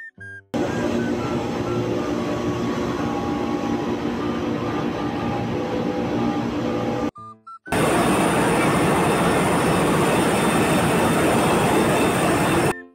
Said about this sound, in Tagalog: ito nga pala yung main engine ng barko na sinakyan namin. At sabi ng STO namin ay ito daw ay B-type engine na may 4-stroke